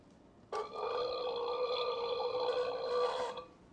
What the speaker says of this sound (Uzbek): Kimdir kekiradimi?